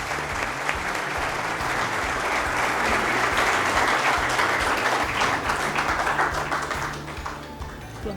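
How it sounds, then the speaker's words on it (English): Sustained, full applause from a large audience at a business school conference, a dense continuous roar of many hands that holds steady and then eases slightly toward the end. "Can we have a big round of applause for the true inspiration behind Miss Saina?"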